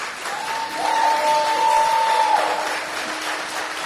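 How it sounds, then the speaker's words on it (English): Applause from an audience for a storyteller, a soft continuous patter of clapping that swells slightly and holds, with a thin tonal whine running through the middle. "I invite everyone to give Habeebah some love through applause"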